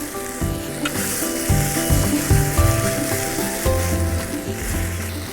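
Bean sprouts and spring onions sizzling in a hot pan for a Korean beef stir fry, a loud continuous fry with crackles and clattering as they are tossed, close and without talking.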